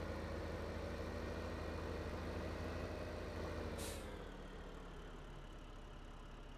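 A tractor engine drives in the farming game Farming Simulator 15, with a steady, loud low drone that dips slightly after a short burst of hissing air partway through.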